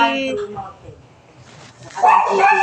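A dog whimpers and lets out high yips, close by, with soft breathy sounds between the cries.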